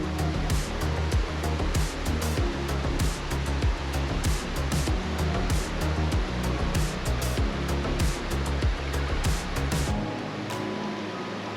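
The Big Thompson River in Rocky Mountain National Park rushes steadily, a continuous broadband roar of flowing water with no break, close by. Irregular clicks and thumps run through it, and it drops off sharply near the end.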